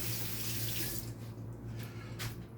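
Water runs steadily from a kitchen sink tap as something is rinsed under it, a close, continuous hiss and splash with slight shifts as the stream is disturbed.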